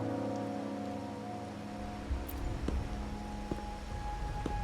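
Steady rain falls in a video game setting, a constant hiss with scattered nearer drop taps and low ambient hum, no talking heard.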